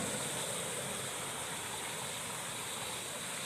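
Broadband, steady rush of a small mountain stream spilling over a long run of little waterfalls along a hiking trail, loud and close, continuous without pause, no voices.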